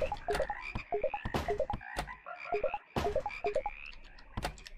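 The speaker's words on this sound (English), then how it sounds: "Hear the frog noise?" A frog in the horror video game HOUSE croaks in repeated close, loud bursts, several quick croaks in a row broken by short pauses, with no voices over it.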